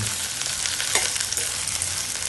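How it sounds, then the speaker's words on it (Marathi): Okra (bhindi) fries in hot oil in a pan, a dense steady sizzle up close with a faint stir partway through and no voices. "व्यवस्थित आपण फ्राय करून घ्यायचं"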